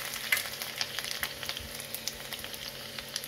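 Fennel seeds, whole coriander seeds and chopped green chilli fry in hot oil for a hing kachori masala. A steady close-up crackling sizzle with scattered sharp pops runs throughout, and no one speaks.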